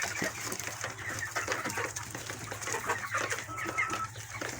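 Egyptian baladi local-breed chickens cluck and chatter continuously in a flock, fairly close, with overlapping calls and a steady background hum and no talking.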